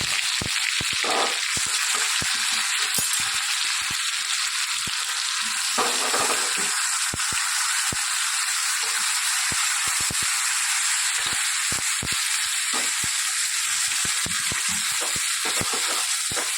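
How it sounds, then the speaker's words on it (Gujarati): Onion, garlic and tomatoes frying in hot oil make a steady, close sizzle and crackle with dense hiss throughout, broken by frequent sharp pops and a few stirring scrapes. "મેં તેલ મૂકી દીધું છે, આનામાં ડુંગળી, લસણ અને ટામેટાં ડાયરેક્ટ નાખી દીધું"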